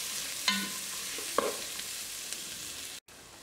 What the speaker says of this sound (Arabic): دابا درت الشامبينيون غادي نخليه شويه يتحمر